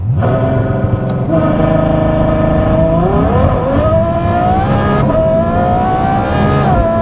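A 2015 Ferrari F12 launches hard under launch control, its engine climbing loud and close through rising revs with distinct gear changes and tire noise, no talk.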